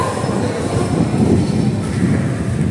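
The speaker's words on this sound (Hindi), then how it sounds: "प्लेटफॉर्म नंबर 1 पे आई अपनी ट्रेन गांधीनगर कैपिटल" A train pulling into Gandhinagar Capital station at platform 1, a steady loud rumble of wheels and carriages close by, continuous with no pauses and no voices.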